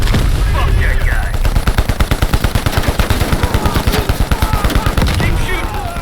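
Rapid automatic gunfire in Call of Duty: Black Ops Cold War, a loud, evenly spaced stream of shots firing near the listener for several seconds over street-battle noise and shouting.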